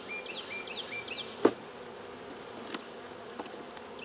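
Honey bees from a new package hum steadily around open hive frames, a close, continuous buzz with individual bees whining past, broken by a few sharp knocks and taps from handling the frames.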